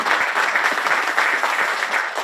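A big round of applause fills a hall at an artists' declaration ceremony, a dense, loud, continuous wash of many hands clapping with no voices.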